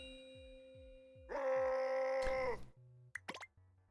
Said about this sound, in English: I think it's the selection sound.